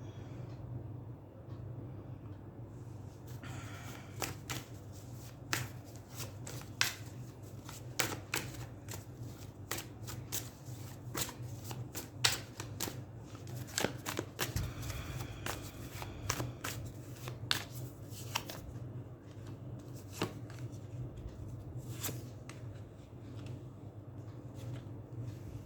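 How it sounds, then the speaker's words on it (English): Tarot cards being shuffled at close range, a steady run of crisp riffling and flicking that goes on for nearly half a minute, with sharp card snaps standing out over a low background hum and no talking. "So I'm just going to shuffle the cards."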